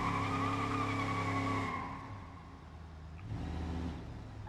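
In BeamNG.drive career mode, an upgraded car's engine revs steadily, then its tires squeal and skid, with a second short surge of engine and tire noise near the end.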